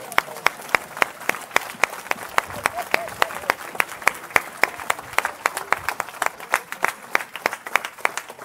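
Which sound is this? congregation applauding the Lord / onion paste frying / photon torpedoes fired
congregation applauding the Lord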